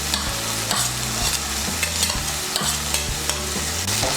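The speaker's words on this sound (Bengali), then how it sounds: "এখন এর মধ্যে দিয়ে দেবো জিরে বাটা আর ধনে বাটা।" Ground cumin and coriander paste frying in hot oil for a Bengali vegetarian soybean kofta curry, a steady loud sizzle broken by rhythmic scraping stirs of a spatula against the pan, with no voices.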